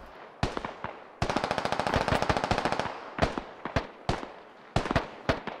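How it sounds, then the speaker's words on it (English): Bursts of automatic gunfire from a military shooter video game, several rapid volleys of close, loud shots with sharp single cracks scattered between them, no talking. "someone's shooting north"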